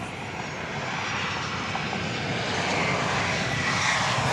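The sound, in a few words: Southwest Boeing 737-800 arriving at Dallas Love Field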